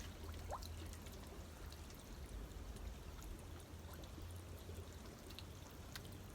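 Carbonated mineral water bubbling at Soda Springs in Yosemite, a steady close fizzing and trickling hiss that runs alone for the whole stretch.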